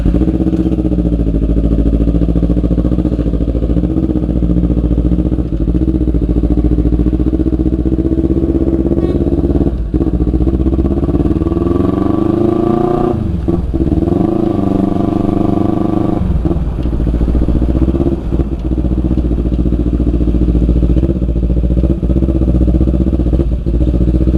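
A motorcycle rides through a rainy night, its engine droning loud and steady close by, the pitch rising and dipping briefly midway as it changes speed, with small clattering knocks along the way.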